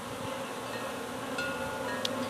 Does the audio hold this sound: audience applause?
no